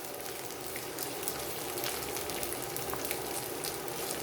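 Tofu and duck frying in a pan for a vegan ramen cook, a steady, dense sizzle and crackle that continues evenly throughout at moderate volume, with no voices.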